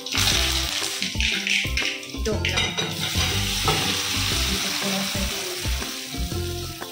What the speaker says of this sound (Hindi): तेल गरम हो गया, अब इसमें डाल रहे हैं राई जीरू। कड़ी पत्ता,